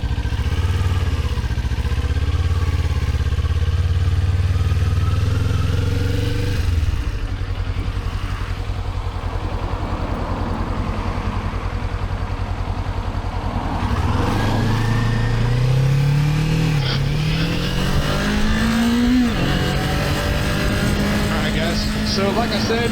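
A motorcycle on a country ride in the Pacific Northwest, its loud engine droning steadily close by with wind rush, then rising and falling as the rider shifts and accelerates; someone talks over it at times.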